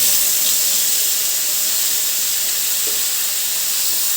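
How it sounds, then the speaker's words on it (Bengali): Spices dropped into hot oil in a home kitchen give off a dense, constant hiss of sizzling and steam, steady and loud for the whole stretch with no speech. "আমি এখন এক এক করে মশলাগুলো দিয়ে দিব"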